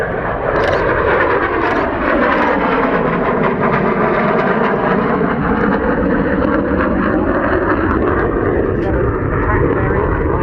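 Saab Viggen jet flying a display at the 2013 Waddington air show: a loud, continuous jet roar that swells and sweeps in pitch as the aircraft passes, with a commentator speaking over it throughout.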